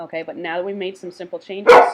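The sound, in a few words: dog barking to go out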